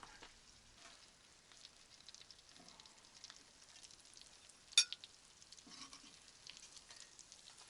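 Fish fries quietly in a pan on a new stove inside a dugout, giving a faint, steady sizzle with a single sharp clink partway through.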